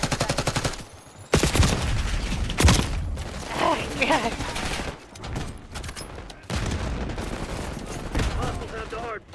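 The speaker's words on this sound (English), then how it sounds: "shoot through everything in this game" Gunfire in Call of Duty Black Ops 6 erupts in loud, rapid bursts and sustained automatic volleys, with short gaps between salvos.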